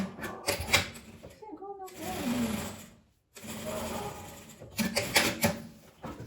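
A sewing machine runs in short bursts stitching a zipper onto a small coin purse keychain, with a brief pause and a reverse stitch, its rapid mechanical whir close and steady between stops.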